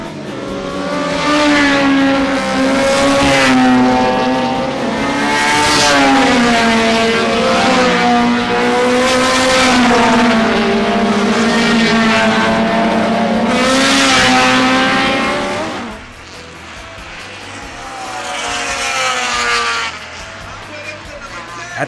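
Race cars lapping a circuit at Wallerfield, Trinidad, during round 2 of the CMRC series, engines droning loudly and steadily with rising and falling pitch as cars pass, fading briefly before building again.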